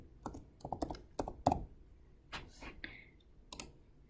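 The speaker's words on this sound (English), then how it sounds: "So I would just type Beach just below Clausen." Fingers typing a name on a computer keyboard: a quick run of close, crisp keystrokes, a brief pause, then a few more taps, with a little background noise between them.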